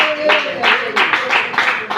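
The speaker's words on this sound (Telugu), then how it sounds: "చప్పట్లు కొట్టి దేవుడికి స్తోత్రం చెప్పండి" A church congregation clapping hands in praise, steady rhythmic claps in a fast pulse, fairly loud and close, with voices mixed in.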